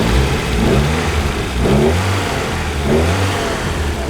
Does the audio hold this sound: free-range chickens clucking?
no